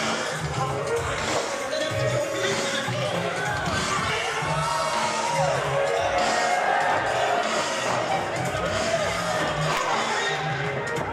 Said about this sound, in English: the crowd here shows their appreciation for the Butcher of Buffalo and PUF